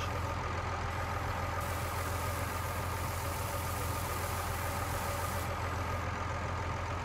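A tractor engine in the Farming Simulator 19 video game, carrying rear counterweight and hauling a nearly full load of rapeseed. It runs as a steady, dense drone that stays even and unbroken throughout, with no voices.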